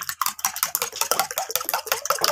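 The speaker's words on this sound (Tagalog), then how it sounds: "atin pong haluin ulit" A utensil scrapes and clinks rhythmically around a bowl, stirring a pinch of salt into a mixture in quick, close, repeated strokes.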